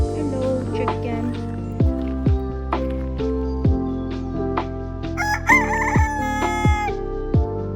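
A rooster on Oahu, Hawaii crows loudly and close by, several drawn-out calls over scattered clucks and soft squelching sounds.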